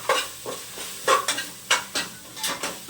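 Vegetables with a pinch of turmeric fry in oil in a pan as a spoon stirs them in brisk rhythmic scrapes, about seven strokes in quick succession over a steady sizzle, close and fairly loud.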